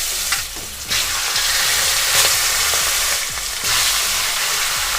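Pangas fish frying in mustard oil in a pan, a loud close crackling sizzle with sputtering pops and a few louder bursts of spitting oil.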